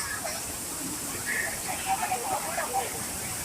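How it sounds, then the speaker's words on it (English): The Kodiveri waterfalls in Tamil Nadu, heard from underneath the large falls, make a soft, continuous rushing hiss of falling water, with faint voices briefly audible in the background. "now I'm standing under the huge waterfalls."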